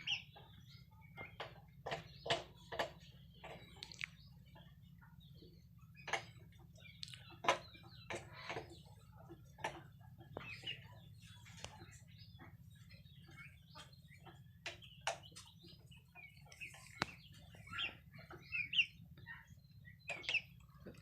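A flock of Thai crossbred chickens clucking and calling in short, scattered bursts over a steady low background hum, with no talking.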